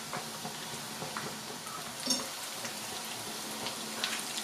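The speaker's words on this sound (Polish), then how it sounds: "I smażymy do zarumienienia się" Steady, quiet sizzling of cutlets frying in oil, a continuous crackle with small pops and no voices.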